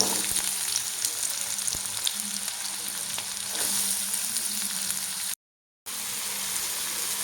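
Chopped green chillies and onion fry in oil on a tawa for an egg gravy masala, a close, continuous crackling sizzle with occasional spoon taps, broken by one brief moment of silence.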